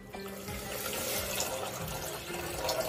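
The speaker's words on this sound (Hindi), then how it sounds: "पानी डाल दें इसी के साथ" Water pours steadily into a cooking pot holding a cup of sugar, a continuous splashing fill for making sugar syrup for bread gulab jamun, close and fairly loud with no talking.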